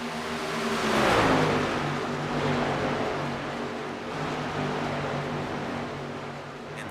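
Racing trucks roar down the backstretch at Chicagoland Speedway in a video game truck series race, a loud sustained engine drone that swells early, then holds steady with shifting pitch as the pack speeds by.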